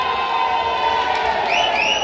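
A crowd of samba fans cheers and shouts at a passistas awards ceremony during the harmonia category, a dense, loud and steady roar with whoops and whistles rising near the end.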